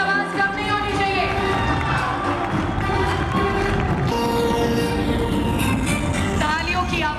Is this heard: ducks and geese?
no